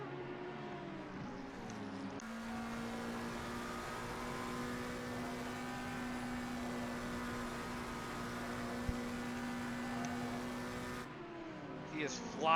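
GT3 race cars sweeping through turn one at Spa in Assetto Corsa Competizione, a steady droning engine whine with sustained harmonic tones lasting most of the time, fairly uniform and continuous.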